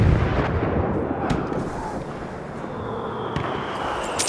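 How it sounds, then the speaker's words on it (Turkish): Explosions and battlefield blasts in the World War I shooter Battlefield 1, a dense rumbling wash of distant booms with a few sharper bursts, continuous and fairly loud throughout with no voices. "Bomba atıyorum!"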